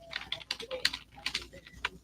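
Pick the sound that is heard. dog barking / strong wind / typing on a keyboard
typing on a keyboard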